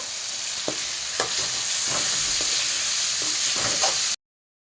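Tomatoes frying in a pan for spicy tomato rice, a continuous bright sizzle with occasional soft clacks of a utensil stirring, moderately close, then cutting off abruptly.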